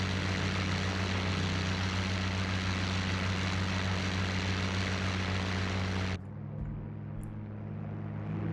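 A P-51 Mustang's propeller engine drones loud and steady in flight in a video game, with a thick low rumble and harmonic hum that drops off abruptly to a quieter wind-like tone near the end.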